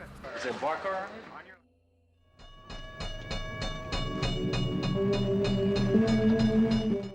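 An overnight train in the 1978 film Martin rolls along with a steady rhythmic clatter of wheels that builds in loudness, after a voice speaks briefly at the start.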